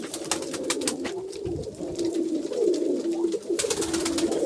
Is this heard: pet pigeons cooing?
yes